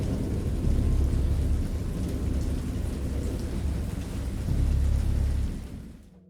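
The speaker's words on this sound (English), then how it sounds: "I heard pearls of thunder and other tones which nature utters only in her wildest moods" A thunderstorm in a horror video game: heavy rain pours steadily while deep thunder rumbles swell, strongest near the end, before the sound cuts off abruptly.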